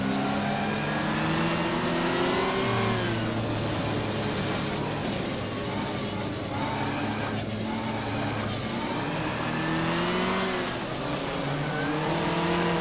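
A historic GT car in rFactor races on at sustained high revs, a loud continuous engine drone with pitch sweeping up and down through gear changes, with no talk over it.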